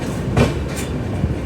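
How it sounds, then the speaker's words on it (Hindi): A brand new WDG 6G diesel locomotive built with Wabtec rumbles at a railway station platform, producing loud, dense low-end engine and rail noise with a couple of brief clanking bursts. "और ये है एकदम ब्रांड न्यू इंजन,"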